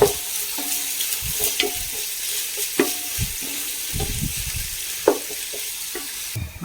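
Onions frying with masala in a pan for chicken biryani, a steady low sizzle broken by several scraping stirs and clinks of the spoon against the vessel, close and moderately loud.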